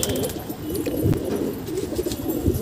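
Captured pigeons, black and white with black beaks, cooing and shuffling close by in a steady, fairly loud stretch with no voices.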